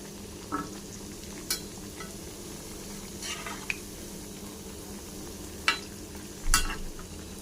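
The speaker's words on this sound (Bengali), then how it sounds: "এইভাবে বড়াগুলো দিয়ে ভেজে নেব" Coriander leaf fritters frying in oil: a soft, steady sizzle under a few sharp spatters and utensil clicks, fairly faint and close.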